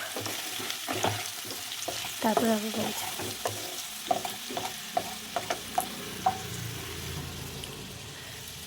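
Potatoes fry in hot oil in a pan, a continuous sizzle broken by repeated sharp scrapes and clinks of a spatula stirring. Someone speaks briefly near the start.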